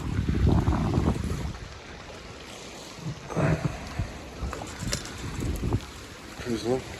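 A sailboat with three sails up in about 9 knots of wind crosses foggy Monterey Bay from Santa Cruz, with gusting wind buffeting and waves sloshing against the hull, near and uneven, alongside some talking.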